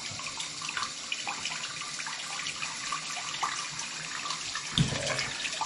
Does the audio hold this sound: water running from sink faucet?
yes